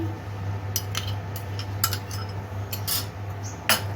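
A spoon stirs grated coconut into a coconut ice cream mixture in a bowl, making intermittent close clinks and scrapes over a low steady hum.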